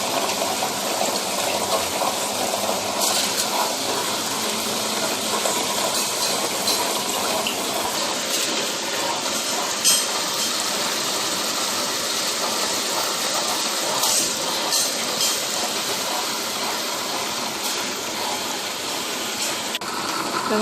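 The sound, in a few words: wet grinder grinding rice for idli batter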